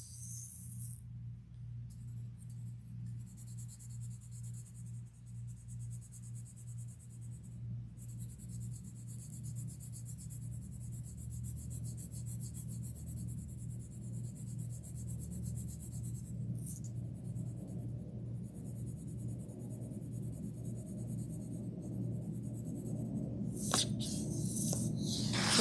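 Pencil shading on paper gives a soft, continuous scratchy rubbing, faint and close, with steady strokes under a low background hum and no talk.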